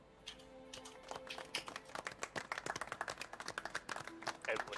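A crowd claps in the video game Spider-Man PS4 in a steady patter of many hands, moderately loud, while a few voices speak faintly underneath.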